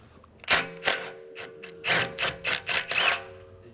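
Ratcheting clicks from a deep socket on an extension turning a 13 mm bolt on a Volvo XC90 engine mount, heard as several short, close bursts of mechanical clicking with brief pauses, no talking.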